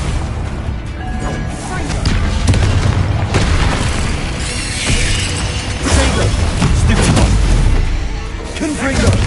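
Confringo fire spell explosions in the game Hogwarts Legacy: loud, heavy booms and crashes burst repeatedly over a dense mechanical rumble, close and forceful throughout, with a voice calling out amid the blasts.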